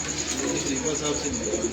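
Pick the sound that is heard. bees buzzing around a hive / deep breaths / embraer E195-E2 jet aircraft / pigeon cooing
pigeon cooing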